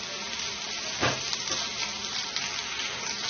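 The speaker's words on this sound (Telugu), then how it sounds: "దీనిలో అల్లం, వెల్లుల్లి, జీలకర్ర పేస్ట్ వేస్తున్నాను." Ginger, garlic and cumin paste fries with onions in hot oil, giving a steady close sizzle and a brief louder spattering burst as the paste goes in.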